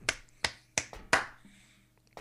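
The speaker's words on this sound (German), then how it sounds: "So ein einzelner Applaus ist irgendwie immer armselig" One person's lone applause during a Resident Evil Zero playthrough: a handful of sharp, close hand claps at an uneven pace, fairly soft overall.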